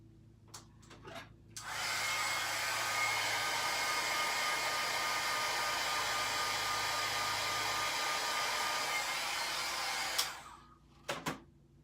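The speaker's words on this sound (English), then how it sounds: "Okay, so I'm gonna go ahead and emboss this" A heat embossing tool blows hot air over a scrapbooking project, a loud, steady whirring roar that starts after a few clicks and runs for about eight seconds before cutting off, followed by handling knocks.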